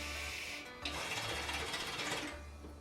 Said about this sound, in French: J'enlève le récupérateur de molasse pour vous montrer un petit peu le bruit de la chicha.